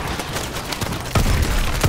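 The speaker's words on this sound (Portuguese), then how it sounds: "Eu vou matar agora pessoas com essa bazuca de plasma." A plasma bazooka fires in Call of Duty Advanced Warfare, a dense burst of gunfire and explosive noise that swells louder partway through, with no talking.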